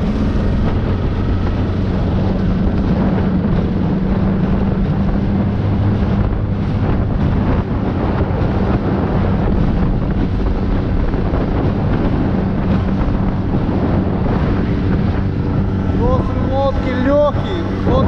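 Loud, continuous wind roars and buffets the microphone over open water from a boat, with an engine rumble and occasional voices mixed underneath.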